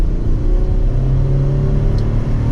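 A 2023 Chevrolet Colorado Z71 pickup with an engine of over 300 horsepower accelerates in its normal drive setting, a steady loud engine drone and road rumble heard from inside the cabin with no talking.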